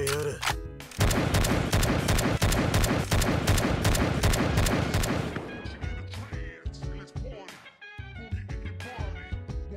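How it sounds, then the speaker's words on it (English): Rapid gunfire in the Roblox game A Universal Time while fighting Dio, a dense continuous barrage of loud shots, then sparser impacts and game effects, with some voice underneath. "Time to start shooting him and kill Dio the not cannon way"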